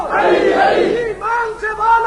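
A crowd at a Muharram majlis shouts religious slogans in unison, loud massed voices rising together and then breaking into shorter rhythmic chants.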